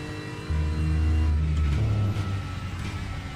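Race car engine in a DTM Esports sim racing game at the Sachsenring, a low rumbling drone that swells sharply, holds loud for about a second and a half, then eases back as the throttle changes, with no talk.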